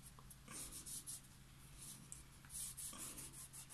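A hand smooths glued paper onto a notebook cover, giving faint, soft rubbing strokes that repeat unevenly. The sound is quiet and close, with no talking.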